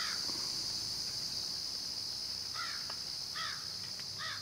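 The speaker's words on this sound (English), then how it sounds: "listening to the crows" Crows caw in short bursts of two or three calls from a distance, over a steady high insect-like hiss and background noise at a truck campsite during a rainy stormy spell.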